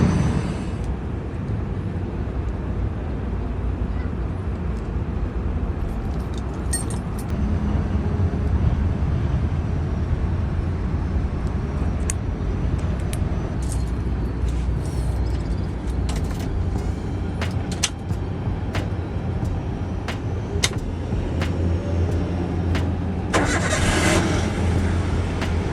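Daihatsu Xenia Xi 2008 on a test drive, heard from inside the cabin: a steady low engine and road drone throughout, with occasional faint clicks and a brief louder rush near the end, and no talking.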